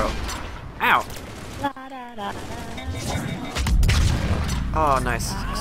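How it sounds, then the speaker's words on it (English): Booming, gunfire-like explosions and mechanical clatter in Mass Effect 3, with a speaking voice over parts of it and a heavier rumble toward the end. "Explosions."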